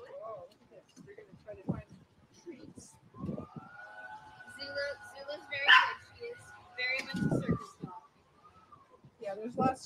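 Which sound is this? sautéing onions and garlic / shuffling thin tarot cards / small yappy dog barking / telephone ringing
small yappy dog barking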